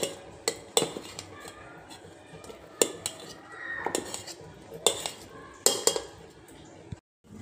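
Chopped carrot, cabbage and onion pieces are tossed and mixed in a bowl, with a soft rustle broken by sharp clinks of a utensil against the bowl every second or so, close by.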